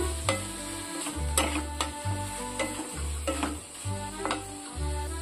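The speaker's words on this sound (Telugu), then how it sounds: "ఇలా పచ్చిపోయేదాకా వేయించుకోవాలండి," Ingredients fry in a pan with a continuous soft sizzle, while a spoon scrapes and taps the pan in a regular rhythm, close and moderately loud.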